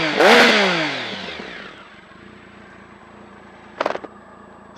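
A 2007 Triumph Tiger 1050 pulls away with a loud rising engine rev, then settles into a steady cruising drone. A short burst of mechanical rattle comes near the end.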